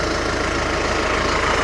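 A tractor engine idles steadily and loudly close by, a dense continuous mechanical drone with no voices.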